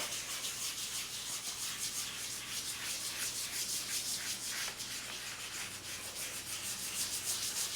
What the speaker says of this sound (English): I have my wooden spoon purchased from the dollar store, and I'm going to use it to rub the block